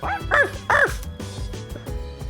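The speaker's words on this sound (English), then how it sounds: "I forgot, we pet the dog when we talk to him, and then shake hands." Koromaru, a dog in the video game Persona 3 Reload, lets out several quick, bright barks and yips in a short burst, followed by softer panting-like whines and game music underneath, close and clear.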